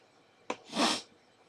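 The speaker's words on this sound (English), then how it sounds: "Sometimes I get those violent sneezes." A single close sneeze, a quick sharp intake followed by a breathy, forceful burst, in an otherwise quiet room.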